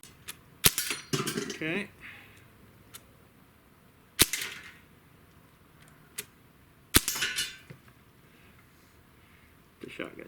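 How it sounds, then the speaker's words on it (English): Air-gun pellet shots from a SIG Sauer MPX or MCX firing Meisterkugeln at targets ring out as three sharp, separate cracks, each followed by a metallic clink of the target, with a brief spoken word in between. "And I'm shooting the Meisterkugelns again."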